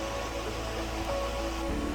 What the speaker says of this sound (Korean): 용자 용손폭포입니다